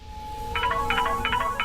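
A phone rings in short repeated electronic bursts, fairly close, over a steady background hum.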